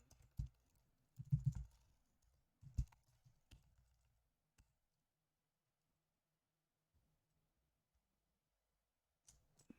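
Someone types code on a computer keyboard in quick clustered bursts of clicks, then falls mostly silent apart from a couple of isolated keystrokes near the end.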